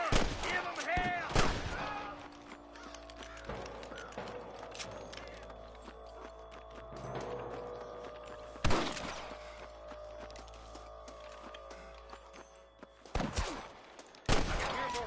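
Scattered gunshots in the Western video game Red Dead Redemption: a few loud cracks spaced several seconds apart, with quieter game ambience and a faint voice between them.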